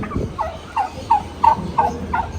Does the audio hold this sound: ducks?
yes